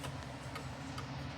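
A mercury pendulum clock ticking indoors: faint, evenly spaced ticks about half a second apart, alone with no talk.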